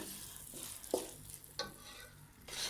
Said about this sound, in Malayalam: നമ്മുടെ ഈ നുറുക്ക് ഗോതമ്പ് ഈ നെയ്യിലൊരു 4-5 മിനിറ്റോളം നമുക്കൊന്ന് റോസ്റ്റ് ചെയ്തെടുക്കണം